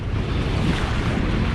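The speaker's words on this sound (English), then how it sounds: "The wind's starting to pick up now." Strong wind on a lake during a Hobie 16 sailing regatta, a steady loud rushing roar buffeting the microphone, with water wash mixed in and no breaks.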